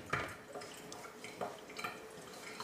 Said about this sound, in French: On va fermer le robinet.